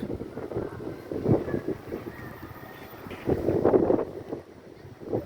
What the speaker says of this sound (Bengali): কালবৈশাখী ঝড়